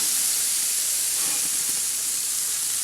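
Thick marinated beef tri-tip sizzles on a grill, giving a loud, close, steady hiss that continues unbroken with no talking.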